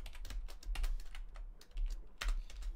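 Rust code is typed on a computer keyboard as a quick patter of close key taps with a few heavier strokes. A low hum runs underneath, and no one talks.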